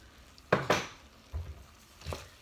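Lemon cream pasta primavera being stirred in a pan: a few close utensil scrapes and clinks against the pan, interspersed with soft low thuds, irregular and moderately loud, with no talking.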